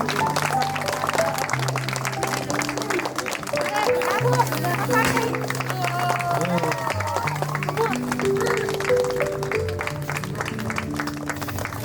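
Wedding guests at a Christian wedding clapping loudly, a dense continuous patter of applause mixed with music throughout.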